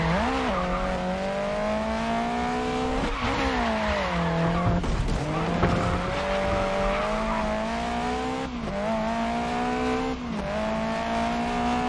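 Race car in Grid Legends sliding through a handbrake corner, tires squealing in long wavering tones over a continuous engine drone, with the squeal bending in pitch as the slide shifts and no voices over it.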